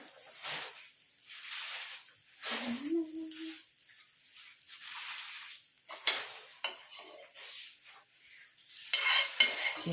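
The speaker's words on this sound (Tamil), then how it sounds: "கொத்தமல்லி இதை லைட்டாக இப்படி ரோஸ்ட் பண்ணிக்கலாம்" Coriander and green chilli roast lightly in a pan with soft sizzling and a few scraping, stirring strokes of a spatula, fairly quiet and close, the sizzle rising in bursts toward the end.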